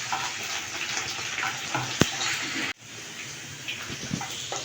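Okra (bhindi) frying in a pan, giving a steady broadband sizzle. A sharp clink cuts in near the middle, then the sizzle drops briefly and resumes.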